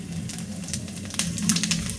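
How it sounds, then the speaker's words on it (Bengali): Cumin seeds dropped into hot frying oil give a steady close sizzle and crackle, with sharp pops building toward the end, while a curry of elephant foot yam with rohu fish is being cooked. "ভাজা তেলে বন্ধুরা এখন আমি একটু জিরে দিয়ে দেবো।"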